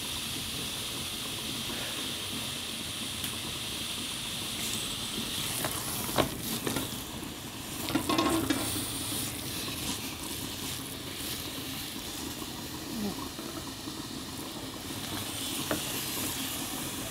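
Chicken empada filling cooks in a pan with a soft, continuous sizzle and hiss, quiet and steady, with occasional faint pops and clicks partway through.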